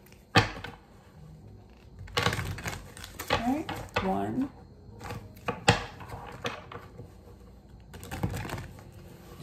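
Tarot cards shuffled by hand in a few short, crisp riffling bursts spread through the clip, close by, with a person counting aloud between them.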